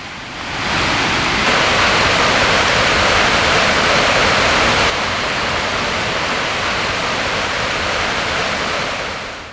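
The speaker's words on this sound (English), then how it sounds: "take a look at Gullfoss waterfall" Steady, heavy roar of Iceland's Gullfoss waterfall fills the whole stretch, broadband and constant, heard close up with wind mixed in.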